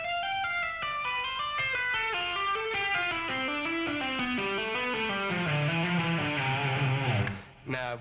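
Electric guitar plays a fast lick of hammer-ons and pull-offs descending through a scale, a dense run of smooth legato notes falling steadily in pitch, ending with a brief muted scrape.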